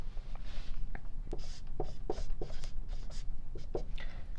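A chemistry expression is written out by hand in a quick series of close, scratchy pen or marker strokes, each short and irregularly spaced, over a steady low room hum.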